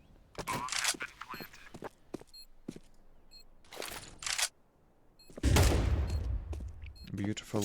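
Gunfire in the video game Counter-Strike 2, with sharp shots in short bursts, a flash grenade, footsteps and a heavier blast near the end, heard over fast spoken commentary.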